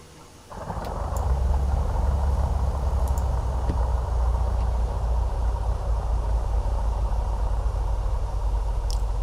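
The simulated Carenado Piper PA-44 left engine starts in Microsoft Flight Simulator 2020: after a brief quiet moment, a low rumble cranks up and settles into a steady, droning idle that continues alone.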